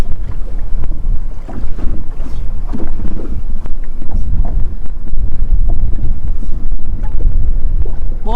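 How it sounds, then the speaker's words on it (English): Strong, gusty wind buffets a fishing boat on open water while fishing for white perch, heavy continuous rumble and microphone wind noise throughout with faint knocks and creaks underneath. "I wish that wind would calm down"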